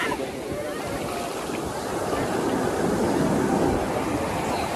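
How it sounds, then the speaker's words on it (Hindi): Ocean waves break along Marina Beach in Chennai, a dense, steady roar of surf with wind buffeting the microphone, holding loud and continuous throughout. "सामने का वेव बहुत ही तगड़ा है, ये पूरा हिट करने वाला है"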